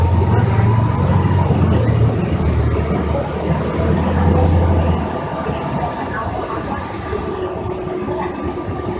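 Interior of a 2006 NABI 60 BRT articulated bus from Los Angeles Metro driving and turning left, with a steady loud engine and road rumble, a low drone that drops off partway through.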